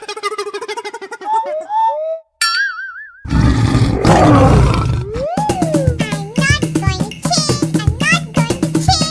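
A cartoon lion lets out a long, loud roar in a children's animated show, preceded by squeaky cartoon voices and followed by bright, rhythmic music hits.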